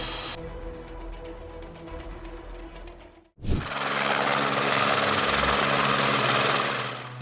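An Airbus H125 helicopter on a border patrol flight, a steady, loud engine and rotor roar that drops out briefly and then surges back as a dense, continuous, close wash of noise.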